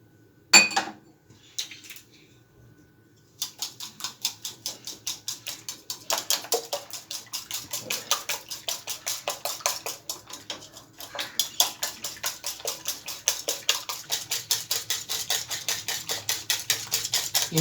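Spoon scraping and clinking steadily against a bowl while egg sandwich filling with spices and a pinch of salt is stirred together, a close rhythmic clatter running throughout with no talk.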